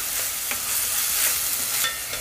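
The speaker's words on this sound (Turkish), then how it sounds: "Soğanın üstüne hemen yarım kaşık tuz. Çok daha hızlı karamelize olacak" Onions sprinkled with salt fry to caramelize in hot oil, giving a dense, loud, continuous sizzle with a few soft stirring scrapes, close up and without speech.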